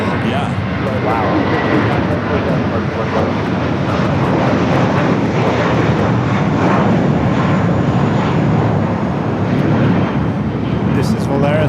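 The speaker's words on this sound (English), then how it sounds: "This is Valera 1715 going to Guadalajara on a 10-year-old Airbus A321" A 10-year-old Volaris Airbus A321 bound for Guadalajara roars at Los Angeles airport, a loud, unbroken jet rumble that fills the whole stretch.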